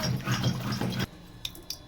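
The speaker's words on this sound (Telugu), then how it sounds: "ఇంకా మనం తీసి పెట్టిన వాటర్ కూడా ఇందులో యాడ్ చేసేస్తున్నాం" Water is poured into mashed dal: a close, sloshing pour for about a second, then a few faint drips and small splashes.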